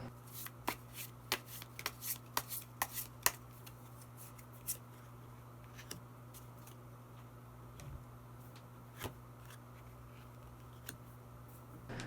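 Tarot cards being shuffled and drawn, heard as a quick run of crisp flicking card snaps followed by sparser single clicks and slides, close and quiet over a low steady hum, with no talk.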